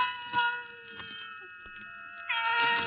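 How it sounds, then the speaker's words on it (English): A single cat cries in long, wavering meows, a clear caterwaul that dips slightly in the middle and swells louder again near the end, close and alone in quiet. "Then the silence was broken by the faint crying of one cat."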